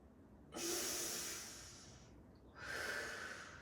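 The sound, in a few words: hypopressive breathing exercise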